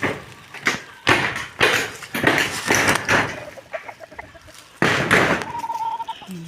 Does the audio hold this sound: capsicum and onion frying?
no